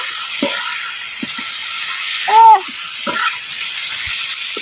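Puti fish going into a pan of sizzling masala curry, a steady close hiss of frying with a few soft clinks and a brief tonal squeak partway through.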